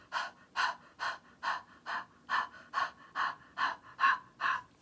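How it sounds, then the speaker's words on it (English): Quick rhythmic panting during a breathing exercise, about eleven sharp breathy huffs at an even pace of roughly two per second, close and alone with no talk. "Some panting breaths first."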